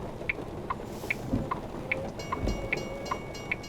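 A train in the American Truck Simulator game rumbles by with steady rolling clatter, repeating rhythmic wheel clicks and a couple of low thumps, moderately quiet.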